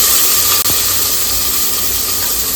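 Onions go into hot oil in a home kitchen pan, giving a steady, loud hiss of frying sizzle that holds evenly throughout with no talk over it.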